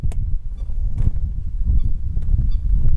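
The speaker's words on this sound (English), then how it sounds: "There's a black and white bird with some red legs, and it's making a call, some squeaking call." A black-and-white stilt with red legs gives short, sharp squeaking calls at a wetland in Botswana, several brief yelps spaced irregularly over a low, rumbling outdoor background.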